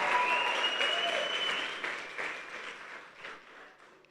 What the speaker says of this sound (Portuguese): Você pode aplaudir bem forte e dar um brado de júbilo ao Senhor.